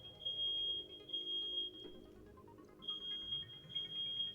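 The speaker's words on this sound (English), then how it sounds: "ignore that beeping" An alarm beeps in the room in short, evenly spaced high electronic chirps, a run of them, a pause, then another run, steady and fairly clear.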